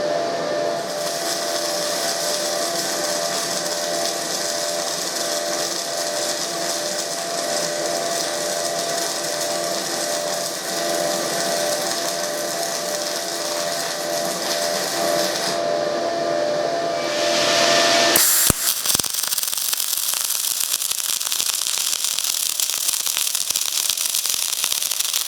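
Flux-cored wire arc welding on steel gives off a steady, loud crackling hiss that runs continuously, shifts tone near the end and turns harsher and more broken, with no talk.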